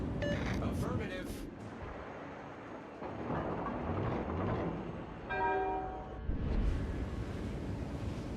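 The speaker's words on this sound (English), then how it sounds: "You're shooting at the Jean Bart with HE." A Daisen tier 9 Japanese battleship fires HE shells at a French Jean Bart battleship on a Northern Waters naval battle map, heard as heavy booming salvos and rumbling blasts over a busy, layered battle soundscape.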